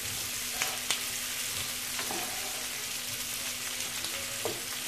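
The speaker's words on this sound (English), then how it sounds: "The important thing is just to get the asparagus just fried a bit before cooking it." Asparagus fries in a pan for a soup, giving a continuous close sizzling hiss broken by a few faint clicks and taps of the utensil.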